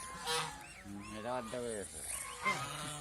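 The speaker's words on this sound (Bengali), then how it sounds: "আরেকটা ছেলে হাঁস আছে" A male goose honks nearby in a few loud, nasal calls, a couple of them stretched and wavering, with a quieter honk near the end over low outdoor background noise.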